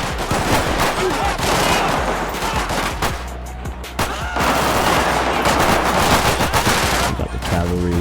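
Rapid automatic gunfire and bursts of shots from a Grand Theft Auto gang-takeover battle in the Vespucci Canals area of Los Santos, loud and nearly continuous over the full stretch, with dense overlapping volleys.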